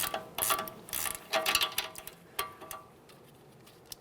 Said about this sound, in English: To remove the nut while holding this, I'm using an 18mm ratcheting wrench.